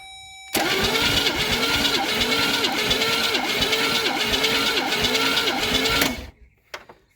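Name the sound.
engine cranking over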